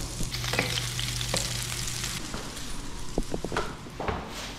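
Onion and ginger fry in a pan with a dense, loud sizzle, broken by clattering stirring knocks and scrapes, no voices.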